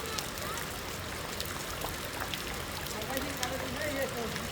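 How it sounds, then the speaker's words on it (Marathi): Floodwater flows and trickles toward a village house, a steady soft wash of running water heard from nearby, with occasional light splashes throughout. "आता पाणी इकडे येतंय, दिसतंय आता"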